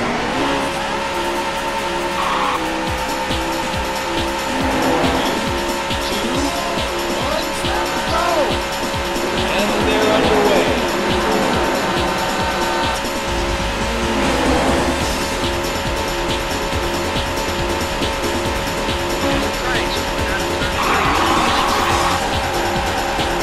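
Race car engines roar and rev continuously in the arcade racing game Daytona USA, with tire squeals and skids cutting through, loud and sustained alongside a music track; a voice is heard briefly.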